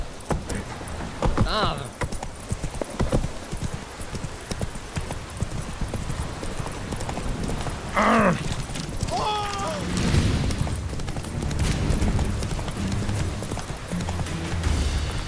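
Roach the horse galloping in The Witcher 3, steady rhythmic hoofbeats with a brief whinny, loud and close under game music and effects.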